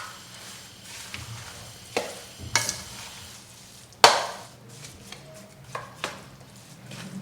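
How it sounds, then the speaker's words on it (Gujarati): Jaggery is mixed into flour for adadiya sweet with the gas turned off, giving scattered scraping and knocking strokes against the pan, one sharp clack standing out, over a quiet background. "ગોળ નાખ્યા બાદ બધું સારી રીતે મિક્સ કરી લઈશું."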